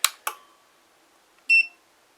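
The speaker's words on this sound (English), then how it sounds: "I also do have a timer hooked up so that it will beep while there is a function, any function on." Two sharp clicks from the slide switch of a Code 3 RLS siren controller, then a brief, clear electronic timer beep, close and isolated in a quiet room.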